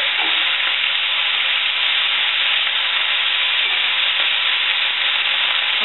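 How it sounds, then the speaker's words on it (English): Radishes and other vegetables fry in a skillet while being stirred, a loud, constant sizzle and crackle with faint scraping of the utensil, up close and without talk. "I put my radishes in, and we're just going to stir them up a little bit."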